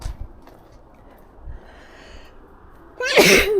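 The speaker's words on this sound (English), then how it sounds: "Oh, excuse me. Sneezing." A single loud, close sneeze bursts out near the end after a few seconds of quiet background with faint rustling.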